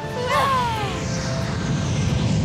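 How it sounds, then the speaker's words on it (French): A huge cargo airplane flies past in a children's cartoon, a loud, close engine roar with a falling, whistle-like tone at the start that settles into a steady rumbling drone. "Un avion cargo!"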